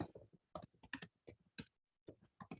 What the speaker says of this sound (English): You just had me typing like crazy.